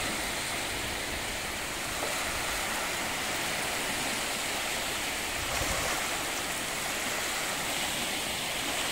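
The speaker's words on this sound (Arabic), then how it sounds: "صوت البحر شيء جميل." Sea waves at Ras Al Khaimah near sunset give a steady, loud broadband wash of surf with gentle swells in level and no voices.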